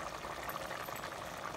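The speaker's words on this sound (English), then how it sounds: "It's boiling." Keto cheeseburger soup with chicken broth boiling in a pot, a faint steady bubbling simmer, heard alone for a moment with no talk.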